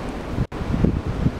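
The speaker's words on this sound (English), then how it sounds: "Ooh, there's a big gust." Strong wind gust during a blizzard, blowing snow off rooftops, a loud close roar of wind buffeting the microphone with a brief dropout, no talking.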